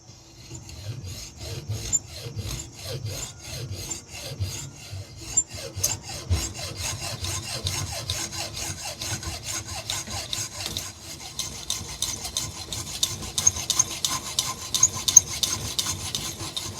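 Piece of aluminum clamped in a vise being cut by hand, a steady rasping back-and-forth stroke rhythm that stays close and moderately loud, picking up slightly near the end, with no talking.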